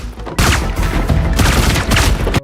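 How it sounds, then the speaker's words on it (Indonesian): A film shootout inside a building during the rescue of kidnapped teenagers, with loud, dense bursts of rapid gunfire that rattle continuously for about two seconds and then cut off abruptly. "Terjadi baku tembak."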